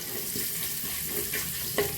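Carrots sautéing with garlic in a pan give a steady, close sizzle, broken near the end by a few louder stirring scrapes, with no talking.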